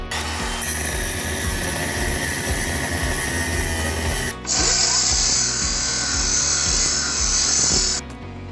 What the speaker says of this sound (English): we've just grinded off the CV